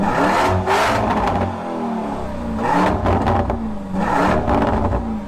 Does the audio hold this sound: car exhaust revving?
yes